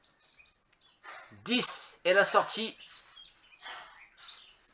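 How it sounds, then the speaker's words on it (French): Birds chirping outdoors during an exercise session, small high calls scattered through the background while someone speaks French over them. "Et oui, il y a les oiseaux."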